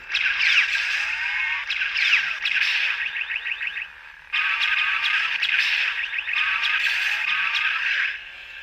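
Sabercore 3.0 lightsaber set to volume 90 fires a rapid series of chirping, warbling blaster-deflect effects, loud and close, with a brief gap before another run of bright sweeping zaps.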